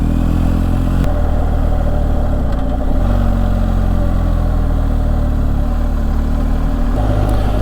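Motorcycle ridden along a narrow grassy single-track rural road in Ireland, steady engine rumble loud and close with wind noise, slight pitch changes as the throttle varies.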